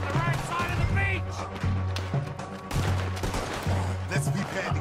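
Rapid gunfire crackles through a chapter 5 beach fight in Red Dead Redemption 2, with repeated bursts of shots close by under loud shouting voices.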